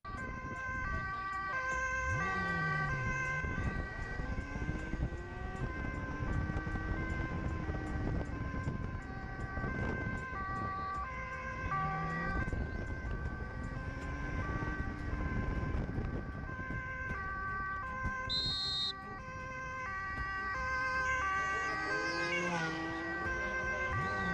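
An ambulance siren wails continuously during a police escort on the road, loud and steady with rising and falling sweeps throughout, and no talking over it.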